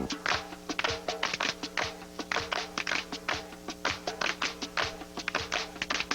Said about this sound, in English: African clappers, they clap this way.